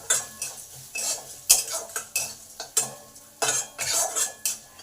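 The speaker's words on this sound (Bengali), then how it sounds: "দু মিনিট ভেজে নিলাম" Lentils, dried chili and cumin are stirred in a pan on medium heat, a metal spoon scraping and clinking repeatedly in quick uneven strokes over a faint sizzle, close up with no talking.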